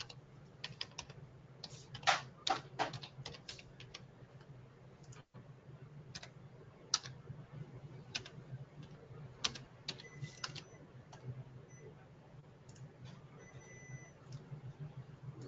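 Someone types steadily on a computer keyboard while entering user details during software training. The key clicks are quick and close, coming in uneven bursts with brief pauses, and no one speaks.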